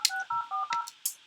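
A telephone keypad sends a quick run of dialing tones as a phone number is entered, about five short beeps in an uneven rhythm, close and clear against a quiet background.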